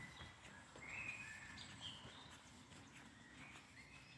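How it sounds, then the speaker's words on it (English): Birds sing in an uphill forest with faint, scattered chirps and short whistled phrases at a distance over a quiet ambient background, sparse and soft throughout. "There are a lot more birds singing than last week when I came here."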